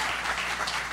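A church congregation applauds to welcome speakers, a dense, steady burst of many hands clapping that fills the room.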